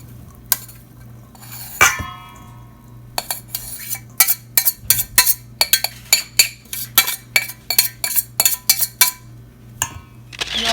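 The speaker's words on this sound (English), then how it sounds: "Now we're gonna mix in all the rest of the ingredients and gonna form our burgers." Buckwheat and bean burger ingredients, including onions and garlic, mixed by hand in a bowl, with a utensil clinking and scraping against the dish in a quick, steady run of close, sharp taps after a brief quieter start.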